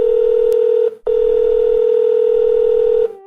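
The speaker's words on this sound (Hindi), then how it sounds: "घंटी जा रही है।" A steady electronic telephone tone sounds loudly, breaks off briefly after about a second, then resumes and holds before stopping near the end.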